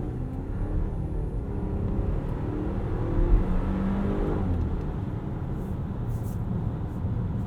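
A 2018 Volvo XC60 T8 plug-in hybrid driving in all-wheel drive, with a steady low engine and road rumble and a faint whir throughout, swelling briefly midway. There is no talk.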